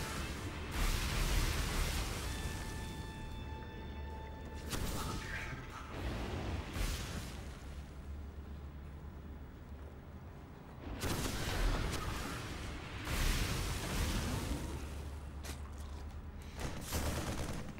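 Siege tanks fire in a StarCraft 2 match, with bursts of heavy, booming blasts and crackling explosions coming in waves, loud and dense, with quieter game noise between volleys.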